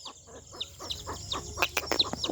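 Several chickens cluck and chirp in short, overlapping calls, close by over a low background hum.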